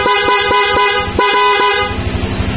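Horn on a Honda Click 125 scooter honks in a rapid series of short toots, then one longer blast, loud and close over a running engine.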